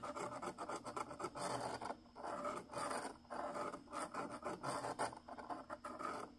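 Hand file rasping a sharp 90-degree corner off a sand casting core for 1917 Vulcan connecting rod bearings, with close, steady back-and-forth strokes in a continuous rhythm and no talk.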